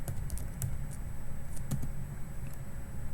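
Fast typing on a computer keyboard while entering a CAD modeling command, a close, steady patter of key presses with a few louder taps, running continuously over a constant background hum.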